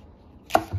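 A single knife cut through Hungarian hot pepper on a board, destined for dill pickle brine, lands as one sharp, close chop followed by a softer knock.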